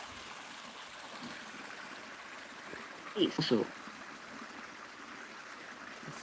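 Flowing water of the Outwit River, a faint steady rush and trickle throughout, briefly interrupted by a short spoken word midway.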